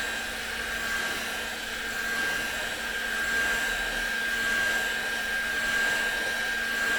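Hot air blower running steadily while heating a gauge part from a 1974 MGB classic car, a constant close whooshing hum with a thin tonal whine, heard alone for several seconds.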